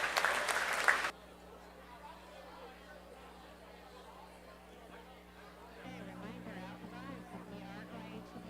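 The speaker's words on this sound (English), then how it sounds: "Let's give all these exhibitors one more great round of applause" Applause from a county fair market beef show crowd bursts loud and dense for about a second, then fades into a low murmur of chatter and ambient hall noise.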